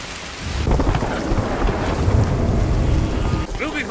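Thunder cracks and rumbles during a stormy scene in the pirate video game Sea of Thieves, with wind and rain-like noise filling a dense, steady roar that dips briefly before rising again.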